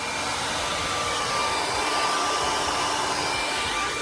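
A hair dryer blowing on hair, a steady loud whooshing roar with a faint whine, running continuously and unchanged throughout without any talking.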